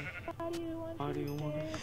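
Sheep bleating in a zombie survival video game, a few tonal bleats close together, partly under talk from players.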